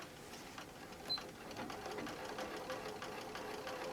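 A sewing machine stitches a seam to seal the inside of a small cell phone bag, its quiet, steady mechanical chatter running evenly without talk.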